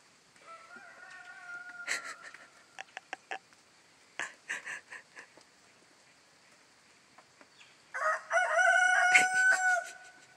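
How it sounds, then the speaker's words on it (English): A Leghorn rooster crows loudly and close by, first briefly early on and then in a long, strained crow at the end, with scattered clucks between. "I think that's enough rooster crowing."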